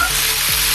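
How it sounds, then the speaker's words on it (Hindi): Green chilies sizzle and fry in oil in a kadhai, a steady, close, continuous crackle with a brief stir partway through, no voices. "हरी मिर्च को भी हमने आधा मिनट भून लिया है"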